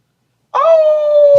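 A single long wolf howl sound effect rises abruptly out of silence and holds a steady, sustained tone, loud and clear.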